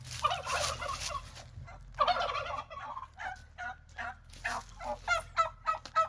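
Turkeys gobble repeatedly in loud, rattling bursts, with a steady low hum running underneath throughout.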